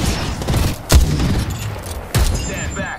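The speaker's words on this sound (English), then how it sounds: "They're shooting at me." Gunfire in Apex Legends heard as two heavy, booming reports about a second apart over a steady rumbling background, fairly loud and close.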